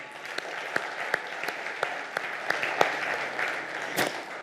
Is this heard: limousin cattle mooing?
no